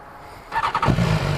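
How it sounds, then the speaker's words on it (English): A BMW S1000XR motorcycle engine starts up close: a short whirring crank, then the engine catches with a sharp bark and settles into a throaty idle. "she sounds like a sporty bike when you start her"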